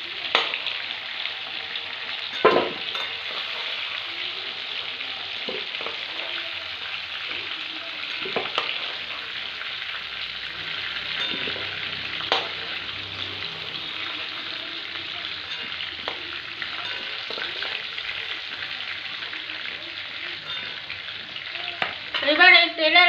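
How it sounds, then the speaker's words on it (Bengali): Potatoes fry in oil with a steady, bright sizzle, broken by occasional scrapes and knocks of stirring, and a voice talks near the end. "তো আলুগুলো আমি হালকা করে ভেজে নিয়েছি"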